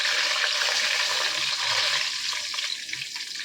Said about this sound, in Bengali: তেলটা গরম হয়ে গেছে এবারে দিয়ে দেব কয়েকটা গরম মশলা ফোড়ন হিসাবে